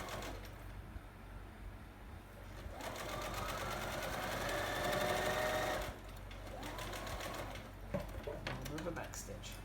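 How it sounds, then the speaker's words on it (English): A sewing machine runs steadily, stitching the final seam of a fabric mask made from t-shirt material and finishing with a short back stitch. The motor whirs close by in continuous bursts, and its pitch rises and falls as the stitching speeds up and slows. "sew that final seam. A little bit of a back stitch."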